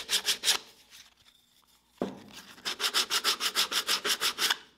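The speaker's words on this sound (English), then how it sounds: "we can just give it a final little sand" A small wooden phone stand being hand-sanded after gluing and nailing: brisk rhythmic back-and-forth rubbing strokes, close and loud, with a short pause midway before a faster run of strokes resumes.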